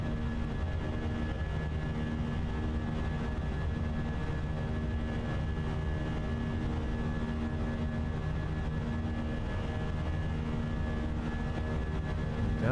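Airbus A320 jet engines at climb thrust in Microsoft Flight Simulator, a steady loud droning roar with a constant tonal whine layered over broadband rumble, unchanging throughout.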